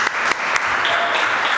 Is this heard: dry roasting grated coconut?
no